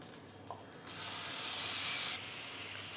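Chicken dropped into melted butter in a hot pan gives off a sudden loud sizzling hiss that swells, holds steady for a moment, then settles to a softer continuous fry.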